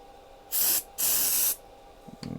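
Two loud hissing bursts from an aerosol can, the first short and the second longer, close up with quiet in between.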